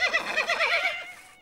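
A single horse whinnies, a quivering, rising-and-falling neigh lasting over a second, close and clear before fading out.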